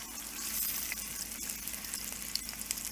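Egg pieces fry in hot oil in a pan for egg biryani, giving a steady, close sizzle with light stirring and turning scrapes throughout.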